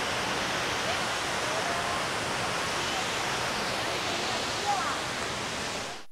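Abbey Falls in Coorg roars as a steady, dense wash of falling water, loud and unbroken throughout with no voices.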